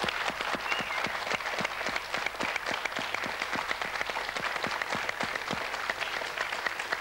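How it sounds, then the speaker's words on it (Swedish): An audience claps steadily in a continuous, dense patter of hands that stays even and moderately soft throughout, with no voices standing out. "Ska vi ta en stor applåd?"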